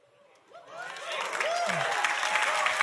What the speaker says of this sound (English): That's about the right amount of applause